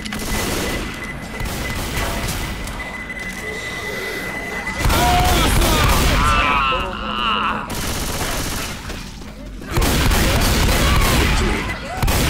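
A grenade blast and heavy gunfire rage through a Left 4 Dead 2 firefight, loud bursts and booms filling the scene continuously, with louder surges midway and near the end, while voices shout over the action.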